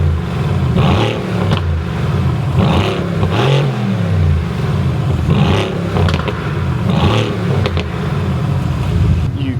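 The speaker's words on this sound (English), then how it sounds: "You cannot beat a Mercedes turbocharged V8 for sound" A Mercedes turbocharged V8 engine revs repeatedly in rising and falling bursts, loud and close, with a steady deep rumble between the revs.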